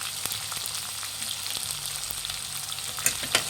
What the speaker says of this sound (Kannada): ಫ್ರೆಂಡ್ಸ್, ಉಪ್ಪು ಹಾಕಿದ್ಮೇಲೆ ಚೆನ್ನಾಗಿ ಫ್ರೈ ಮಾಡಿ.